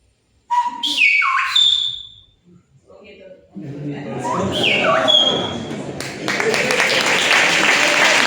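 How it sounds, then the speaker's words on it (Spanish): Silbo Gomero, the whistled language of La Gomera, rendered as several sharp, high whistled phrases with gliding pitch, loud and near, followed by a burst of applause and crowd noise at a public talk. "el lenguaje silbado es capaz de traducir, o sea, de silbar cualquier lengua"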